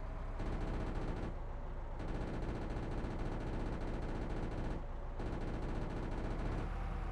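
Sustained machine gun fire in the weapons-dealing game Arms Trade Tycoon: a loud, dense, continuous roar that runs almost unbroken, with a few brief dips in the barrage.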